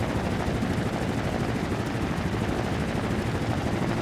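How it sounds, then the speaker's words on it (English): A player-built helicopter in the game Trailmakers gives a loud, steady, dense rotor-and-engine roar that holds constant throughout without voices. "And this is technically the first helicopter I've made."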